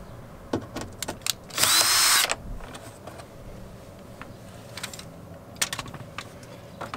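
Power driver undoing a Torx screw inside a car door behind the tweeter cover panel: one loud, close whirring burst under a second long, surrounded by light clicks and handling knocks, with no speech.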